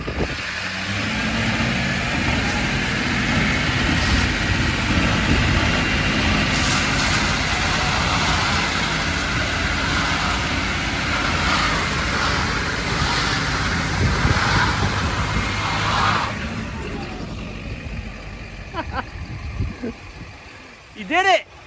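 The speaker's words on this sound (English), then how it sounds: "It was the worst brake stand I've ever seen in my life, Beard." A diesel truck doing a brake stand roars at a steady, loud high rev for about fifteen seconds, then drops away while voices and cheering come through near the end.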